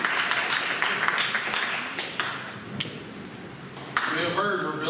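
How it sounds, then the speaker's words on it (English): A crowd at a city council community meeting applauds the assistant fire chief with a busy wash of clapping, plus a few sharper individual claps standing out nearby, while a voice talks over part of it. "Big round of applause for Kate Long."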